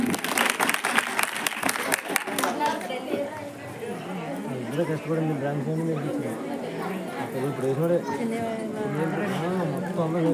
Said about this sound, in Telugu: వీళ్ళందరికీ గట్టిగా చప్పట్లు కొట్టి అభినందన తెలియజేద్దాం.